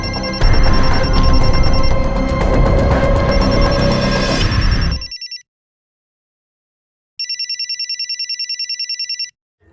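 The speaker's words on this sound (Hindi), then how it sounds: "मैं तो फोन नहीं लाई. तो मेरा भी नहीं बज रहा है. तो किसका बज रहा है?" A mobile phone rings loudly with a rapid, trilling electronic ringtone for about five seconds, cuts to silence, then rings again in a shorter even burst of pulses.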